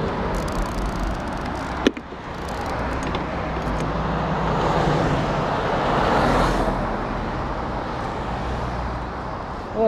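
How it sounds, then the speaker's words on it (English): Road traffic rolls past a cyclist on a city commute, a continuous roar of cars swelling as vehicles pass close by, with a sharp click early on. "A little bit of traffic."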